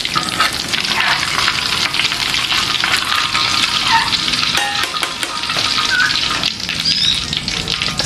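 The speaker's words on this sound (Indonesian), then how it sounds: "Kalian goreng cabai buat sambal, cabai, tomat, bawang." Chili, tomato and shallot sizzle in hot oil as they fry for sambal, a loud, close, crackling hiss with bursts of stirring and spattering throughout.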